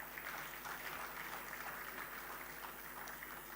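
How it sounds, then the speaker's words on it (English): Audience applause at a commemorative symposium honoring the Vice President of Nigeria, a steady wash of clapping from a large crowd, fairly faint and distant throughout. "Another round of applause for him."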